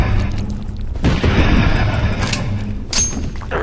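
Gunshots in the Lone Survivor game, a few heavy booming thuds, loud and close, spaced about a second or more apart with a sharper crack near the end.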